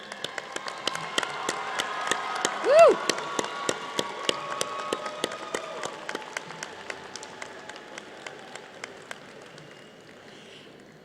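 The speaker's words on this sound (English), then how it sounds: "Graduates, please stand and applaud those special individuals who helped you on this journey." Commencement crowd of graduates clapping for their supporters at TMCC: a continuous field of crisp claps with one loud whoop of a cheer early on, gradually thinning and fading toward quiet by the end.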